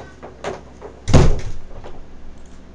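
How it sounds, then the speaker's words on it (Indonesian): A door bangs shut indoors with a single solid thud, preceded and followed by fainter knocks and rattles from the same door, with no talking. "ada suara pintu"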